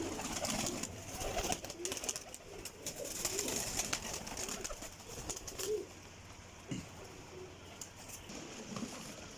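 Pigeons from a Jhelum loft, including a stocky cumin-coloured bird, cooing and calling close by over steady low background noise, with occasional soft wing or handling sounds and no talking.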